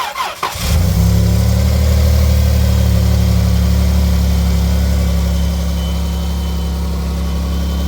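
Car engine cranking briefly, then catching and settling into a steady, loud idle that eases slightly in level toward the end.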